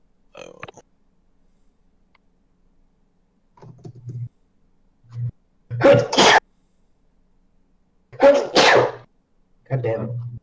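A person sneezes in a small indoor space during a tense game session, giving a few sharp bursts of sneezes and vocal outbursts in a row, loud and close, with quiet pauses between them.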